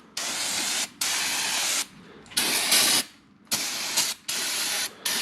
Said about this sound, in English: I'm going to give this thing a spray down with some brake cleaner on both sides